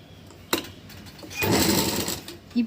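A sewing machine runs in short bursts while stitching folded blouse cloth, with a brief start and a longer steady whir at close range, alone and without talk.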